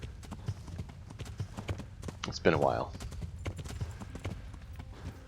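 Horse hooves clip-clop steadily in Kingdom Come: Deliverance as a mounted character rides, with someone talking over the hoofbeats.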